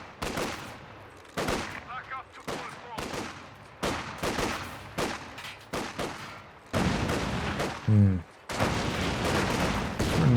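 Rifle volleys crack out in repeated sharp bursts in a 2v2 Company of Heroes 2 match, loud and close, with other battle noise and a brief whistling effect mixed in.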